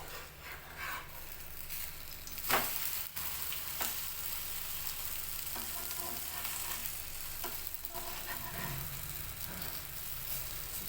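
A jowar, moong dal and egg dosa fries in oil on a hot pan with a continuous close sizzle, broken by a few scraping stirs and clicks of a utensil.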